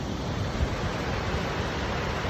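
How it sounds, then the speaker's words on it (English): Steady, broad rushing roar of a waterfall beside a Wind River Range backpacking trail, continuous and fairly even throughout with no pauses, sounding moderately close and with no voices heard over it. "The waterfall."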